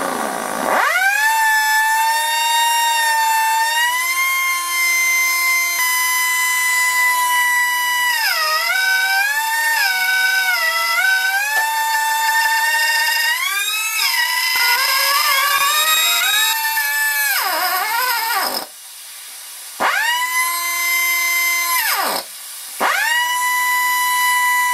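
A cheap Chinese air grinder runs loud and steady as a high whine, its pitch dipping and rising as load changes, with two brief drops near the end.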